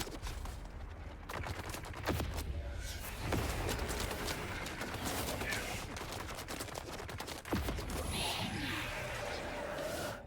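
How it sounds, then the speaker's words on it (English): Electric ball projectiles fired by an enemy in the video game Dune Awakening, a dense crackling barrage of sharp repeated bursts and impacts, loud and continuous with a voice talking over it. "Shooting his little electric balls at me again"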